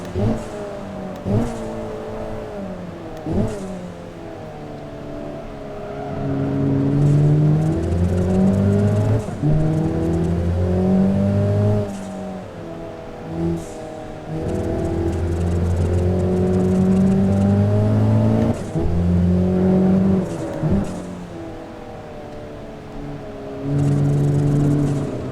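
A Dacia Sandero RS rally car engine revs hard on a mountain hillclimb road, climbing through gears and dropping briefly between shifts, loud and close with a steady high-pitched whine.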